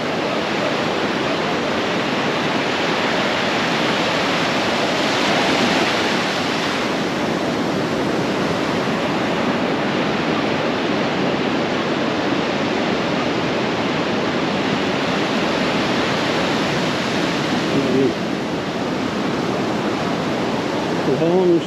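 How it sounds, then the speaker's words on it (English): Continuous rush of sea waves breaking on a long sandy beach along the Indian coast between Goa and Dapoli, a broad steady roar with gentle swells in loudness throughout. "beautiful waves"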